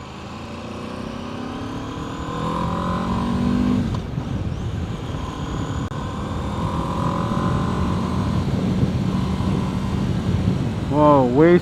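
A 2024 Aprilia RSV4 Factory 1100 V4 motorcycle being ridden, its engine droning steadily with rising and falling pitch sweeps as it accelerates, a sharp high rev near the end, with people talking over it.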